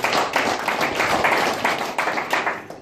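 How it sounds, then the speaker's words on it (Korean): Applause from the audience at a year-end gathering of a Korean unification leaders' association's executives, a dense, steady patter of many hands clapping together and sustained across the whole stretch. "박수나 한번 드리겠습니다"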